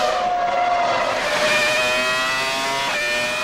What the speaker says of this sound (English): Lights out! Irvine and Villeneuve are getting a good start